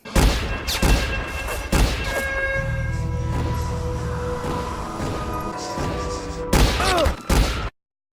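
Rapid bursts of gunfire in the 1998 second season of the animated series Spawn, several sharp loud shots clustered at the start and near the end, with sustained dramatic music or tones between them.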